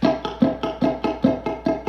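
Muted funk guitar strumming, the fretting hand only touching the strings, gives a steady run of percussive, scratchy down-up chucks in an even rhythm, close and dry with no talking.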